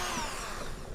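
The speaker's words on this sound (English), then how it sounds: "this is a drill" An electric drill whirs steadily at high power, a continuous close, loud motor drone with no pauses in the short burst.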